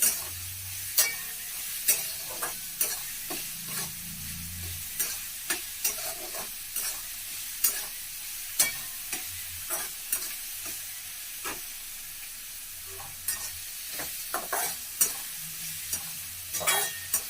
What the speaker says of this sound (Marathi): कांदा चांगला लाल भाजायचा